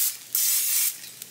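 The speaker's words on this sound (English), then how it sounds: "I'm gonna spray a little bit of extra spray." A couple of sustained hissing bursts of cooking oil spray onto a pan, close up, the longest lasting about half a second, with fainter spray puffs around it.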